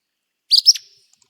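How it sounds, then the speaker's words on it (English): A single short, sharp, high-pitched Acadian flycatcher song, a quick two-part burst lasting under half a second, clear and close with nothing else around. "first off is the Acadian flycatcher song"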